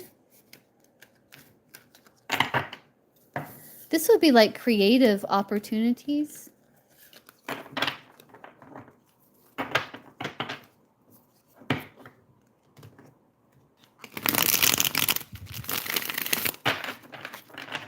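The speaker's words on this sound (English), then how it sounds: "Let me shuffle the cards here." Tarot cards are shuffled in several quick riffling bursts, crisp and close, between stretches of a person talking quietly.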